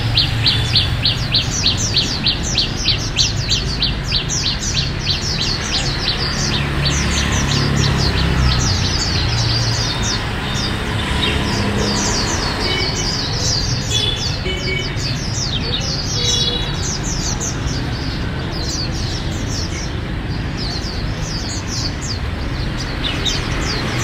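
A caged songbird sings in rapid, repeated high chirping phrases over a steady background hiss, loud and close, continuing throughout.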